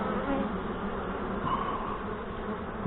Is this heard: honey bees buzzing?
yes